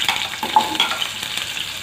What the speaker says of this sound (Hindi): तो तेल गर्म हो गया है दोस्तों, अब हम प्याज डाल देंगे जो मोटे टुकड़ों में काटा है।